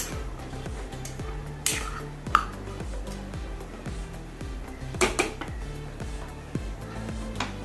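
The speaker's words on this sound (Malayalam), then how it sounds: "ഉപ്പ് ചേർത്ത് നല്ലപോലെ ഇളക്കി കൊടുക്കാം" A jackfruit seed and drumstick leaf stir-fry is stirred in a pan after salt goes in, with scattered light metallic clinks and scrapes of the utensil over a steady, low, repeating tonal background.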